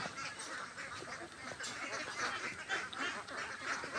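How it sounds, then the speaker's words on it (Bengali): Ducks at a duck farm kept in a pen of netting and tin sheets, a flock of about 360 birds, honking and quacking in a steady busy chorus throughout, with no talk. "অল্প হাঁসের খামারটি আপনার এখন দেখবেন"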